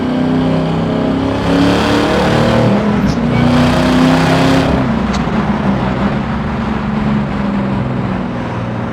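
A supercharged 650 hp LT4 V8 in a 1968 Camaro SS restomod with a six-speed pulls under light acceleration, a steady loud engine drone heard from inside the car, holding even and continuous with no talk.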